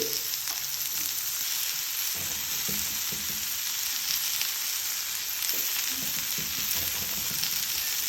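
Onions frying in a pan as the base for a pig soup make a continuous close sizzle and crackle, with a few faint stirring knocks and no voices.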